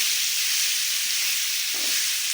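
Chicken fries in a pan for pepper chicken, giving a steady, even sizzle and hiss that holds throughout at moderate loudness, with no voices over it.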